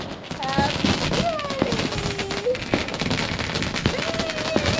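Diwali sky shot fireworks crackle and pop in quick bursts throughout, with people talking and calling out close by over the noise.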